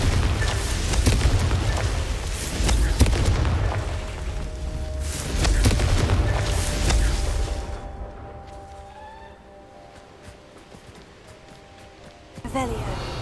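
Loud booming Confringo blasting-spell explosions in Hogwarts Legacy, several heavy blasts in the first half with a rumbling tail, then quieter debris and a final burst near the end; talk is mixed in.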